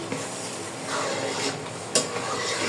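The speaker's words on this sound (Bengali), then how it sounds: "এভাবে আমরা নাড়াচাড়া করে নেব মিশিয়ে নেব" Rice khichuri made from leftover cooked rice is stirred and mixed with spices in a pan, giving a steady close scraping and rustling with a faint sizzle and one sharper clink near the end.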